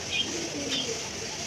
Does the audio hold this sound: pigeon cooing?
yes